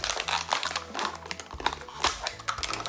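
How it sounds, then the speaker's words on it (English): Regular kitchen scissors snip down a plastic water bottle, giving crisp crinkling cuts and plastic crackles in an irregular rhythm, close and fairly quiet. "I'm just using a regular kitchen scissors, and I'm just gonna go ahead and kind of cut down the line"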